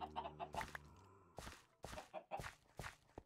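Video game chickens cluck in short, quiet bursts, several in a row, mixed with sharp broadband thumps like footsteps.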